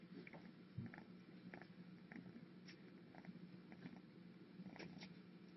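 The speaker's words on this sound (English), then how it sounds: "She's purring. I wonder, you might be able to hear her." A cat purrs softly and steadily up close, a low continuous rumble with faint rhythmic pulses and no talking.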